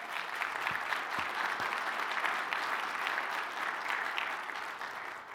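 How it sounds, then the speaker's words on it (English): Sustained applause from a keynote audience at a tech conference, a dense steady wash of many hands clapping at even loudness throughout with no talk over it. "Big round of applause for Venkat."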